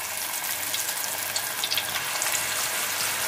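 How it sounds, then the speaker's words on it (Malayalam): Soya balls frying in coconut oil in an uruli, a steady dense crackling sizzle, close and even throughout with small bubbling pops. "ഞാനത് വറുക്കാനായിട്ട് ഇട്ട് കൊടുത്തോണ്ടിരിക്കുകയാണ്."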